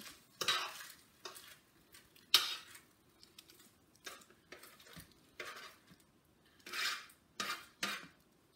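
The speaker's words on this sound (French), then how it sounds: "Et je mélange le tout." Vegetables and sausages being stirred in a pan, a spoon scraping and clinking against the metal in irregular bursts with a faint sizzle underneath, close and quiet between strokes.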